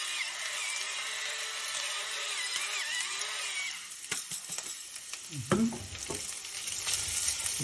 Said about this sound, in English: stir everything evenly inside